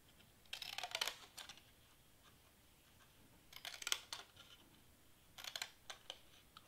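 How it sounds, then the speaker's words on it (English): Small scissors snip through thin cardboard for miniature package boxes in three short bursts of crisp, quick cuts separated by quiet pauses, close but soft. "I'm cutting right now."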